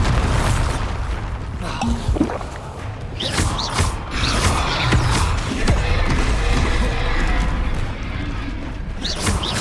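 Spell blasts from Confringo and Bombarda in Hogwarts Legacy go off repeatedly as sharp bursts and booms over a busy, clanking mechanical game backdrop.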